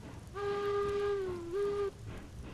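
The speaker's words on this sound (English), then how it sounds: "Whistle sounds good." A single steam locomotive whistle from a Class 48 0-6-0 engine in Railroads Online blows a clear, steady tone for about one and a half seconds, dipping briefly near the end before cutting off, over faint engine rumble.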